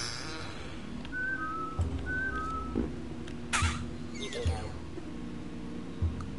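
Short whistled notes come from a character in the Oddworld video game, paired in quick twos and repeated, with soft clicks and thumps between them over a quiet game background.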